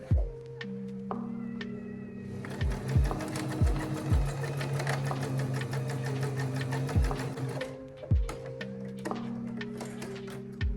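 A sewing machine stitching a drawstring bag made from an upcycled hoodie: a loud, close, steady whirring run with rhythmic ticking, starting and stopping in short bursts, with no talking.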